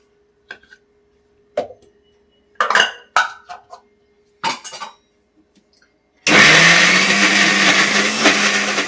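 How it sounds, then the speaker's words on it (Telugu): A few clinks and clatters, then a mixer grinder grinding garlic, ginger and fresh coconut switches on with a loud, steady whirring roar that runs to the end. "మిక్సీకి వేసుకుందాం ఒకసారి."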